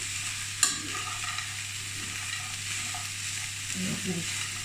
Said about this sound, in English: So I'm just going to stir this through.